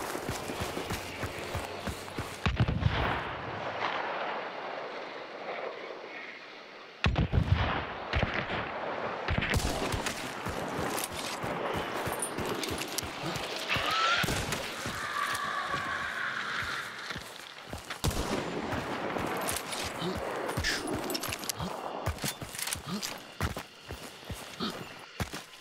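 Gunfire from a Romero shotgun in the game Hunt: Showdown, a few loud sharp blasts standing out over busy rustling, footsteps and other game noise.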